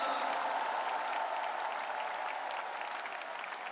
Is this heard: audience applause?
yes